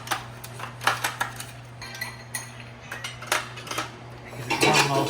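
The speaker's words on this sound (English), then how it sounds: "Give it one last stir." A calamansi daiquiri stirred with cubed ice in a tumbler, heard as close, bright clinks and rattles of ice and spoon against glass in quick irregular bursts over a low steady hum, with no talking.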